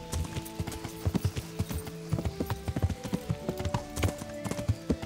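Horse hooves clip-clop at a brisk, uneven trot in the video game Kingdom Come: Deliverance, close and moderately loud with a brief neigh, and no talking over it.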